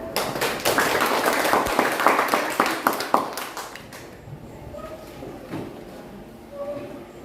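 Students in a classroom give a short burst of applause, loud and ragged at first, then tapering off into scattered claps and quiet room murmur.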